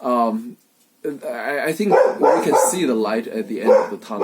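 A pet dog barks a few times in an indoor home setting, overlapping someone speaking steadily at close range.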